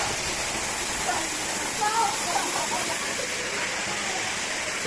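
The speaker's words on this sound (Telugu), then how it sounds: "వాటర్ ఫాల్స్ ఇది" A waterfall at a rocky riverside site sends up a steady, dense hiss of falling water, constant and fairly loud throughout, with a brief faint voice partway through.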